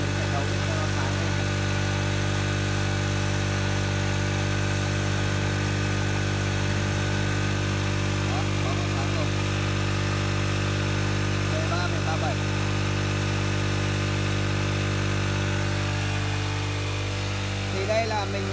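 A motorcycle engine fitted with LED lights and a voltage-stabilizing boost charger runs with its idle screw turned up, a constant, close mechanical drone that barely changes.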